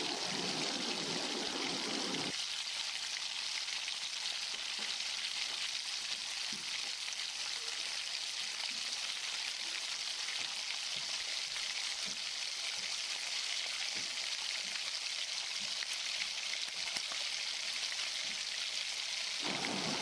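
Waterless brinjal fry with coriander powder cooking under a lid, a continuous even hiss of frying that runs steadily for the whole stretch, moderately quiet with no voices.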